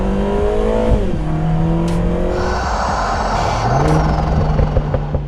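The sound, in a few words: Lotus Emira 400 horsepower turbocharged four-cylinder engine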